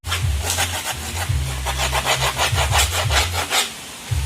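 Skateboard grip tape edge is scraped in quick, rhythmic back-and-forth strokes, a close, gritty rasping that repeats steadily with no talking.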